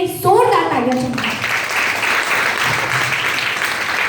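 Audience at a live event bursts into strong applause, dense clapping that holds steady after a woman's brief speech at the start.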